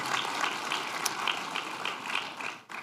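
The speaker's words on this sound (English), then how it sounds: "Yvette, let's give her a round of applause." An audience at a campus community kickoff event gives a round of applause, loud continuous clapping from a sizable crowd that holds steady throughout the short stretch.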